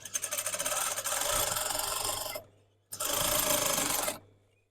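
A sewing machine stitches through dress fabric along an overlocked seam, running in two fast, rattling bursts separated by a short pause, close and clear.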